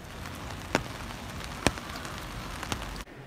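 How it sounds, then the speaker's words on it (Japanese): Rain falling on a rainy day in Fukuoka, heard from a home balcony: a steady, even patter and hiss with a few louder individual drips, moderately quiet and continuous, cutting off abruptly at the end. "福岡はね、今日も雨なんですよ。"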